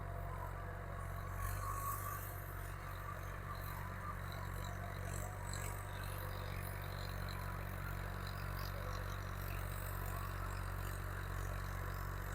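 A tractor engine runs steadily at idle on a farm, giving a continuous, even low rumble with a faint mechanical clatter and no talking.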